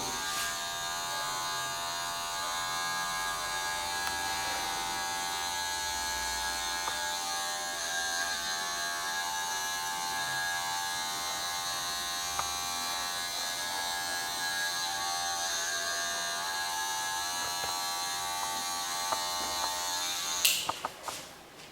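Electric hair clippers fitted with a 0.5 guard cut a fade, giving a steady, close electric buzz that runs unbroken for about twenty seconds before a brief clatter and cutoff at the end, with no talking.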